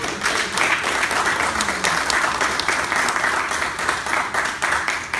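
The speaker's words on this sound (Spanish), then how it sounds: "Dar un aplauso al Señor." A church congregation applauds in praise, a steady dense wash of clapping that holds at an even level throughout with no voices rising above it.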